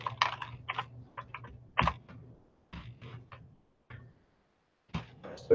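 Someone types into Desmos on a computer keyboard, tapping the keys in quick uneven bursts of close clicks separated by short pauses, with no voice heard.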